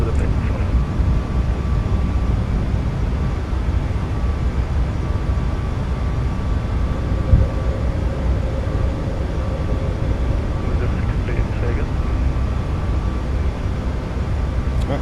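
Steady, loud engine roar of an iFly 737 MAX8 airliner during takeoff from Copenhagen in Microsoft Flight Simulator, a continuous broadband rumble with no distinct events.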